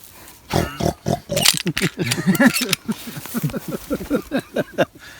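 A pig on a Texas hog hunt grunts and oinks in a series of close, rhythmic snorts and squeals, with camera clicks and brief human sounds around it.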